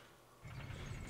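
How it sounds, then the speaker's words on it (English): Elevator mechanism in the video game Dark Souls starting up after a brief quiet moment, a low rumbling mechanical grind with faint ratcheting that continues steadily. "To unlock it, all you gotta do is come and stand here and ride the elevator down."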